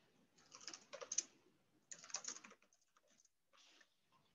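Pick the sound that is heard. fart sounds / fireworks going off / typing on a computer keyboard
typing on a computer keyboard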